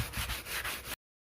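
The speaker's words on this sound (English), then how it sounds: "I'm just going to take off the shine of the fiberglass" Sandpaper rubbing over a fiberglass interior car pillar to dull its shiny surface, a close, steady scratchy scrubbing in short strokes that stops abruptly after about a second.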